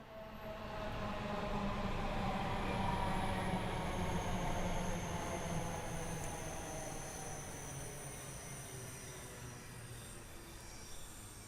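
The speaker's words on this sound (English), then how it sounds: "There's another train coming by the sounds of it." A train rolls past in Train Sim World 2, a broad steady rumble of wheels on rail with thin high squeals of wheel flange running over it, loud and close throughout with no talking.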